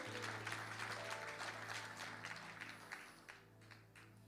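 A church congregation breaks into applause during a sermon, dense continuous clapping from many hands filling the room, holding steady before slowly thinning toward the end.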